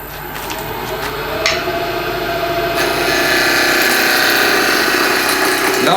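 A roughing gouge cuts a spinning piece of wood on a lathe, passing through a knot toward a smoother surface. The cut makes a loud, continuous, rasping whir close up that grows steadier and fuller partway through, with no talking.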